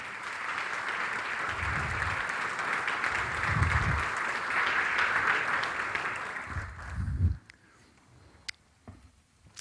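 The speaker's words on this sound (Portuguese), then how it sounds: "Você pode aplaudir Jesus por isso?" A church congregation applauding together, a broad sustained wash of clapping lasting several seconds before tapering into scattered final claps and a quieter hall.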